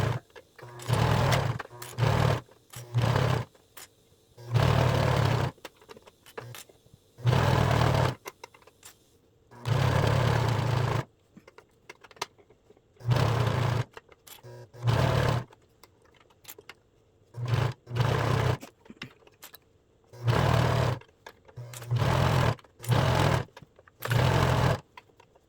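A sewing machine stitches the facing of a boho ruffle top in repeated bursts of running, several short and a few longer, each stopping and starting again, close and fairly loud with no talking.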